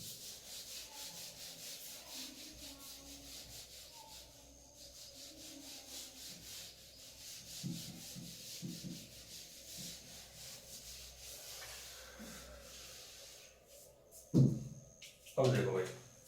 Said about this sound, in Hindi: मैं इसको रब करूंगा ताकि अपन को ये कैलकुलेशन भी बकाया अपने स्पेस चाहिए